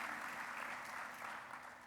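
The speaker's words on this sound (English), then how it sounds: "also a round of applause, because that's a really amazing thing" Steady, dense applause from a conference audience at the B-Sides Lisbon cybersecurity keynote, filling the whole stretch evenly without fading, with no voices rising above it.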